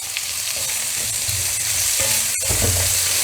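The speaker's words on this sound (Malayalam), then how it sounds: "അതിലേക്ക് ഒരു 4 സബോളയോളം ഞാൻ അരിഞ്ഞു വെച്ചിട്ടുണ്ട്, അത് അതിലേക്ക് ഇടുക" Chopped onions, about four, frying and being stirred in a pan for a Kerala-style chicken curry, with a steady close sizzle and occasional scraping strokes throughout.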